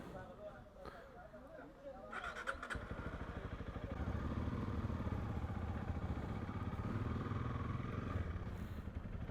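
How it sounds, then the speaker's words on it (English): A CFMoto 450 MT adventure motorcycle pulls away and rides on, its mid-pitched engine building from a ticking idle into a steady, close running drone, with some talk near the start. "this is a magnificent bike. CFMoto 450 MT."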